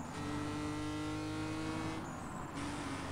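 Race car engines in a two-lap Need for Speed video game race, a loud sustained engine whine with steady tonal harmonics and a brief shift in pitch midway, continuous and close.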